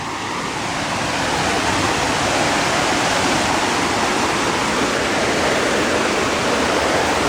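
Water pours over a small dam beside a walking trail, a loud, steady, broadband rush that swells in the first second and then holds constant, close by and alone.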